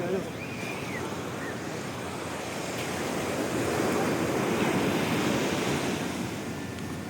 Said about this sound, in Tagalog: Ang lakas ng alon eh.